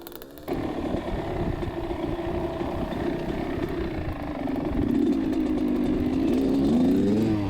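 A Kawasaki KX100 dirt bike rolls downhill in first gear, its engine droning steadily and close by, rising slightly in pitch toward the end.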